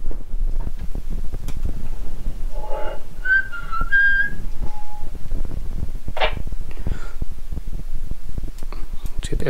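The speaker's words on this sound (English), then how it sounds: "So I'll just whistle into the mic and we'll see what output we get." A person whistles into the microphone of a Yaesu FT227 radio transceiver during a transmit test: a few short, clear, rising and falling tones close to the mic, separated by breathy pauses and handling noise.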